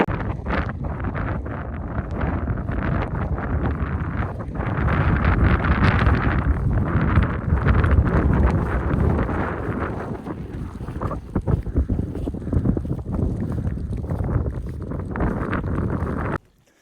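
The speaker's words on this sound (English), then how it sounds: "the wind really was picking up heavy" Strong, heavy wind roars across a Scottish mountain summit in the Cairngorms in June, a continuous loud buffeting rush that batters the microphone and swells in gusts, with no voices over it.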